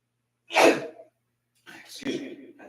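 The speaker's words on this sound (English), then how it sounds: "excuse me, I just sneezed" A person sneezes once, sharp and close, followed after a brief pause by a breathy exhale and the start of speech.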